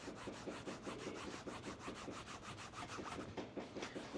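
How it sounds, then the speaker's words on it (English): Canvas rubbed briskly back and forth on a leather edge to build heat and friction, a steady rhythmic scrubbing with even strokes, close and fairly quiet with no voices. "rub it on my canvas here, and then I'm just going to create some heat and friction"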